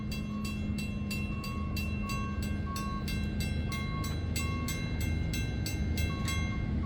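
A train approaching on a Wheeling & Lake Erie line gives a steady rumble of rolling wagons with rhythmic wheel clicks over rail joints, while short horn-like tones sound intermittently through the continuous noise.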